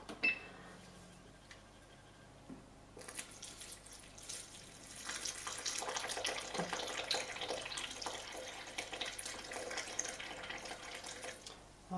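Water is poured into flour to make a papier-mâché paste: a quiet start, then a continuous splashing pour from about three seconds on, close by and fairly soft, with no voices.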